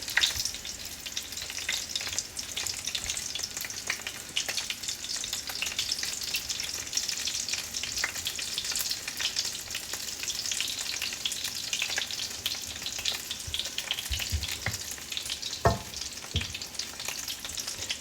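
Thick Wagyu beef sausages fry in a pan with a continuous close sizzle and spitting crackle, broken by a few light knocks and scrapes as they are turned over.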